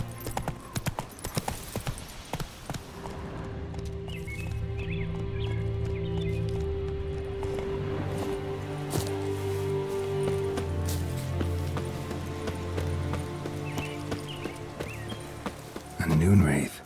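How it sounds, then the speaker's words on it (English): Rhythmic clip-clop of a horse galloping in The Witcher 3 continues steadily and close under game ambience and a sustained tone. "Run, Roach."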